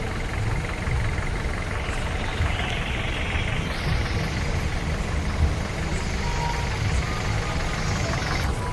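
Heavy road traffic on the way to Prayagraj for the Mahakumbh, with a jam stretching two to three kilometres: a steady, dense rumble of truck and bus engines idling and creeping along, continuous and fairly loud throughout.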